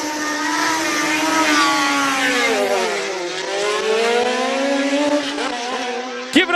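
A Chevron P19 race car with a 4-cylinder, 2-litre engine howls up a hill climb course, the engine note rising and dipping through gear changes, loud and close, with a sharp click at the end.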